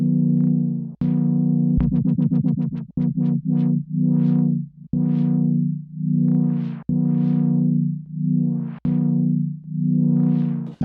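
Elektron Machinedrum synth tone with an LFO sweeping the filter, sustained buzzy notes rising and falling in repeated swells, with a burst of rapid stuttering retriggers early on, loud and close with no voices.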